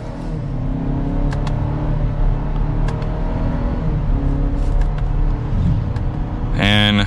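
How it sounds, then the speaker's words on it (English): Car accelerating hard in sport mode, heard from inside the cabin: a steady engine drone with rising harmonic sweeps as it pulls through the gears, then a sharp louder rev near the end. Speech is faintly present. "And then one last acceleration for today."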